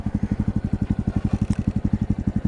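A Honda CT125 motorcycle fitted with a big bore kit and a 15-tooth sprocket putters steadily on the road, its engine giving a loud, close, rapid and even chugging pulse throughout.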